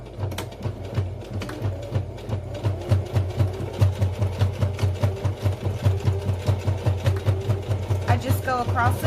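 A sewing machine basting a connector onto the edge of a fabric pouch runs in a steady, rapid stitching rhythm, close and fairly loud, with a brief clicking flourish near the end.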